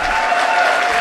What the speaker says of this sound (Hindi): तो एक बार लड़कों अपने लिए तालियां बजा दीजिए